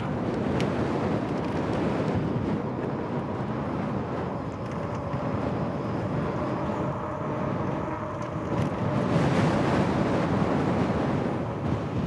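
Strong wind buffets the microphone outdoors during an e-bike ride, a loud, steady roar that swells near the end, with no voices.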